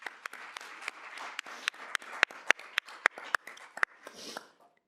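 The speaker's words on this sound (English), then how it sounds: "Please give them a round of applause." A small audience at a student senate meeting claps for the senate members: sharp, separate claps in a loose, quickening patter that peaks, then thins out and stops.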